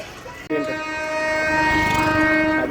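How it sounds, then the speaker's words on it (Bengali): A local train pulls into Amghata station on the Krishnanagar line, its horn sounding a long, loud, steady tone over rumbling wheels and the clatter of carriages. "তো আমঘাটায় ঢুকছে ট্রেন এখন"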